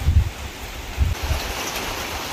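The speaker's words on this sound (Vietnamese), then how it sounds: "các bạn có thấy mưa không? Nghe tiếng mưa không? Gió nữa." Rain and wind outdoors make a rushing, broadband wash broken by a couple of deep, buffeting gusts, loud and close with no talking.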